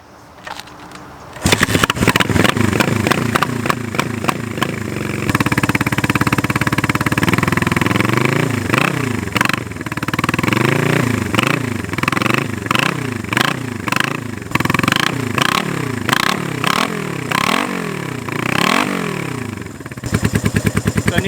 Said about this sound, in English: Kind of idling on one cylinder right now.